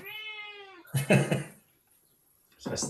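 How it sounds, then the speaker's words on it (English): A cat lets out a long, drawn-out meow close by, then a shorter second meow follows after a brief pause. "That's my cat."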